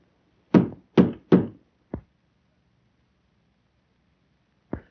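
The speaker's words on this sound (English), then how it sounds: "Knock on wood." Knocking on wood in a 1930 comedy film scene: three quick, solid knocks, then a single lighter rap, with another lone knock after a pause, all close and clear with no talk over them.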